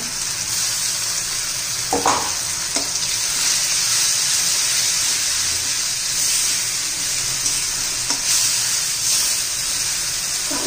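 Tomato puree from one blended tomato sizzles loudly in a pan over reddened fried onions for an egg masala, a steady close hiss with a few stirring scrapes and knocks, no voices.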